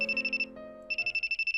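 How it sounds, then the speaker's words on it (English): A mobile phone ringtone rings loudly, with a fast pulsing electronic warble in repeated bursts, a short break, and then more ringing. "My phone's ringing now?"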